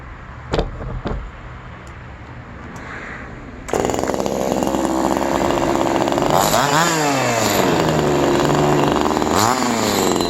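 A JonCutter G2500 top-handle chainsaw, pumping thin bar oil, bursts to life after a few faint knocks and runs loud and steady, its engine pitch rising and falling as the throttle is blipped.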